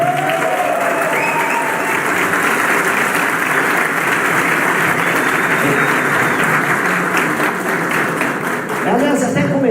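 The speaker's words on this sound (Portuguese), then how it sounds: "Quero uma salva de palmas para esse cara" Loud crowd applause at a political rally in Criciúma, SC, sustained thick clapping from a large audience with voices and cheers mixed in throughout.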